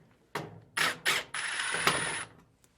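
A hand ratchet fitted with a 1/4 inch socket backs screws out of a dryer, giving several short, close clicking bursts followed by one longer run of rapid ratcheting, with no talking.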